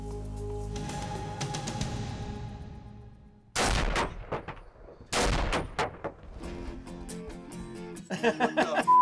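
A Browning BAR rifle fired at feral hogs during a thermal-scope hog hunt: two loud, sharp shots a second or so apart ring out close by, with quieter background noise and bits of voice around them.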